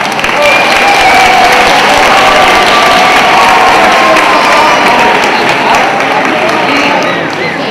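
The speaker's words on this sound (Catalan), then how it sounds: "Un aplaudiment per Monsenyor Baltasar." A crowd welcoming King Balthazar at the Three Kings' arrival in Callús claps and cheers loudly, a thick sustained wash of applause with shouts mixed in that barely eases toward the close.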